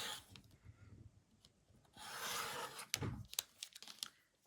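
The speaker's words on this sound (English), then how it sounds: "So I'll cut this down on my first cut." A rotary blade cuts along a ruler through quilting fabric for a Curtsy sampler block, giving a brief scraping, rubbing swipe mid-clip amid a few close taps and handling noises.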